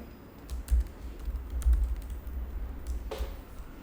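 Someone types on a computer keyboard, entering a password: a few sparse, faint keystroke clicks spread over a quiet background, with no talking.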